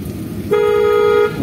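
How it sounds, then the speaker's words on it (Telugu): A car horn sounds once in a single steady blast of about three-quarters of a second, close and loud, over low road and engine noise during a driving lesson. "కొట్టండి హార్న్."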